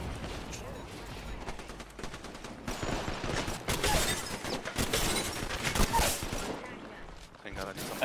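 Gunfire in the battle royale game Apex Legends crackles in rapid, dense bursts, some shots near and sharp, others softer and farther off, with a player talking over the action.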